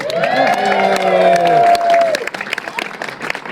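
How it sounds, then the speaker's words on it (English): An audience claps and cheers at a Western theme park show, loud and close, with a voice calling out over it before the clapping thins to scattered claps. "What are y'all clapping for?"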